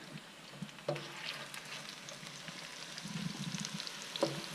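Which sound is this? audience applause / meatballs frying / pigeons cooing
meatballs frying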